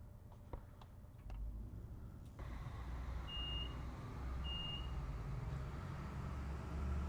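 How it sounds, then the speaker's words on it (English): Two short, high warning beeps from a train cab in the railway simulator Train Sim Classic, evenly spaced about a second apart over a steady low engine rumble, with no voices. "How many bloody times are you going to beep at me, you stupid bloody thing?"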